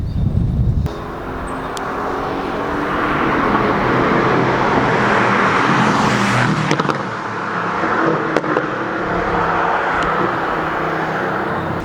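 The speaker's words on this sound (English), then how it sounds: "the world's first AMG GTS with an Akrapovic evolution system" A Mercedes-AMG GT S fitted with an Akrapovic Evolution exhaust drives at the Zolder race track in Belgium. Its engine note swells and fades across the clip with a broad rumble, and one brief louder burst stands out at the start.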